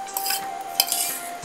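A metal spoon clinks and scrapes in a pot while roasted cashews and raisins are stirred into chickpea payasam, several quick light taps close by with no talking.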